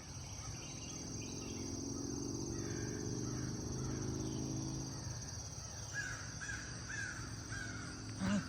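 Crows cawing repeatedly outdoors over a steady bed of buzzing insects and crickets, the harsh calls coming in short clustered bursts at moderate distance, with no voices.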